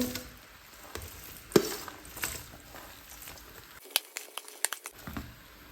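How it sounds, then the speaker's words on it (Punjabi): Green chillies dropped into melted sugar for an oil-free sweet and sour pickle, giving a crackling sizzle with scattered clicks of stirring, with a brief quiet gap partway through. "ਜਦੋਂ ਆਪਣੀ ਚੀਨੀ ਮੈਲਟ ਹੋ ਗਈ ਤਾਂ ਆਪਾਂ ਨੇ ਜਿਵੇਂ ਅੱਧਾ ਅੱਧਾ ਹਿੱਸਾ ਕਰਿਆ ਤਾਂ ਇਹ ਮਿਰਚਾਂ ਜਿਹੜੀਆਂ ਪਾ ਦੇਣੀਆਂ ਵਿੱਚ"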